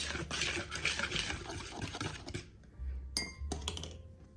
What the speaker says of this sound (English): I'm gonna whisk up all our dry ingredients first.